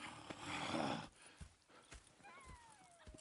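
Horses in Red Dead Redemption II shuffle and snort, a burst of breathy noise followed by a few soft hoof thuds and faint movement, quiet and close with a thin whinny-like tone near the end.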